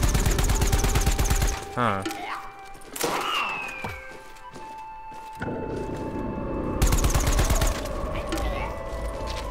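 Rapid gunfire from shooting at a boss in Plants vs. Zombies: Battle for Neighborville, in loud bursts and repeated shots amid game effects, with a brief voice between them.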